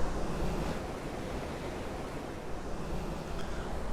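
Ocean surf at Sandy Beach washes in a steady, soft roar, with wind hissing across it as someone rides a paipo board just offshore; no voices are heard.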